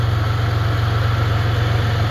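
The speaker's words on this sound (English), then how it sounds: "now it's got over its little fit, and it's idling again" A car engine with a suspected vacuum and fuel pressure regulator fault, prone to stalling and flooding, settles back into idle: a steady, close, low throbbing hum with an even pulsing rhythm and no voices.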